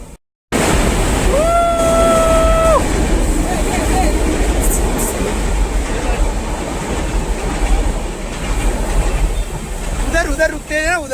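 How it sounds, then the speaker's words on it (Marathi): A train rumbles past near the KP Waterfall at Khopoli, a loud continuous clatter under rushing water, with a horn blast early on and people talking over the steady noise. "आता इथं बघ आम्ही वाट बघतोय ही बा ही ट्रेन आली."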